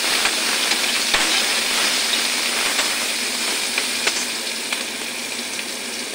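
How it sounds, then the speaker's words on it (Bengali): Chopped onions frying in a pan over a lowered gas flame give a steady, close sizzle and hiss that runs unbroken throughout, with a few sharper pops and crackles and no talking. "পেঁয়াজ কুচি কুচি করে কেটে রেখেছি ওগুলো দিয়ে দেব।"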